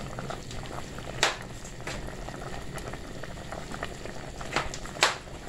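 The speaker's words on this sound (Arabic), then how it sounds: "كوكوت ديالي هيا تبخات" A pressure cooker steams steadily, a continuous hissing rush with a few sharper sputtering puffs now and then, close and fairly loud with no talking.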